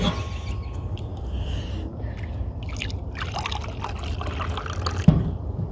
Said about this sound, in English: Pour water in there, man.